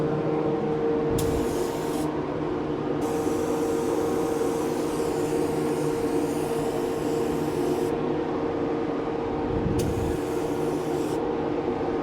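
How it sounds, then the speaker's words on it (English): A spray gun with a 1.0 tip lays down thin General Finishes no-wipe wood stain in a steady, continuous hiss that stays loud from start to finish, with brief bursts of brighter spray through the middle. "I'll get to spraying"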